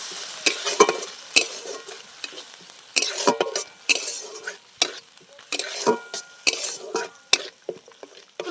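A spice paste with coconut milk, salt and seasonings for Bengali shukto bubbles in a pot while a spoon repeatedly scrapes and knocks against the metal in bursts of stirring.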